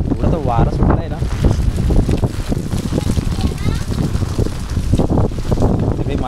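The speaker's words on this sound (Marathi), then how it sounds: "एवढा तर वारा सुटलाय ना" Strong gusting wind during a sudden monsoon thunderstorm in Maharashtra, with heavy rain, a loud steady roar and buffeting across the microphone throughout, with a voice speaking over it.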